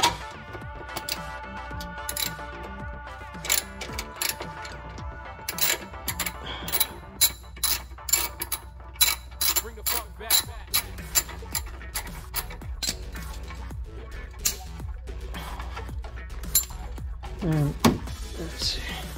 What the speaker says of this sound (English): I got my ratchet right here.